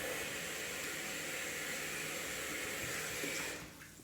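Water from a bathroom tap runs in a steady, close hiss for a rinse after a straight-razor shave, then cuts off abruptly near the end.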